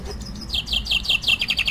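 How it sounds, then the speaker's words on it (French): Birds singing outdoors in a quick run of bright, repeated chirps and tweets, close and clear over a low background rumble. "On est accompagné par des jolis chants d'oiseaux."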